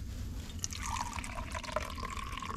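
Hot water pours from a thermos on a freezing night in a homemade camper, a short close trickling stream rising in pitch as the cup fills, with no talk.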